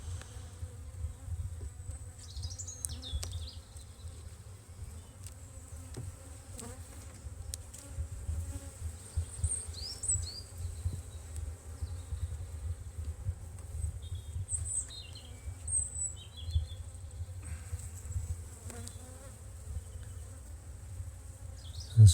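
Honeybees buzzing around an open hive during an inspection, a soft, continuous low hum with individual bees droning near and far.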